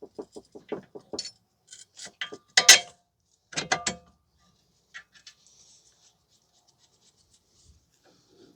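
Strut bolts go into the steering knuckle on a 2010 Toyota Corolla 1.8, giving a series of close metallic clicks, taps and ratcheting scrapes in uneven bursts, followed by near silence.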